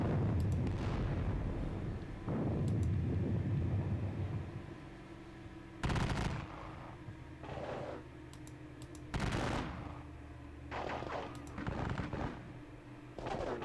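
Battle of Bautzen wargame battle sounds with scattered cannon and musket volleys, several separate booming reports spaced a second or two apart over a low rumbling background.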